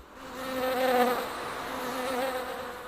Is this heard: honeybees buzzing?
yes